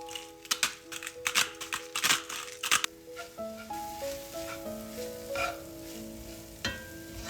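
Minced meat fries with cinnamon, black pepper and salt in a pan, with a soft sizzle under scraping and clinking stirring strokes at first, then sustained tonal hums and faint crackles, fairly quiet and with no talking.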